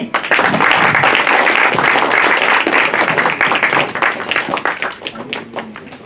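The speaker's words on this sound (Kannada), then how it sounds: "ಬಲ್ಲಿ ಚಪ್ಪಾಳೆ" An audience gives a round of applause at a gathering celebrating a son's first short film project, with dense, continuous clapping that stays loud throughout and fades slightly near the end, voices faintly mixed in.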